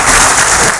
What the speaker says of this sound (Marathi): मग त्या पोलिसांना प्रशिक्षण देणाऱ्या व्यक्तीसाठी टाळ्या होऊन झाले पाहिजे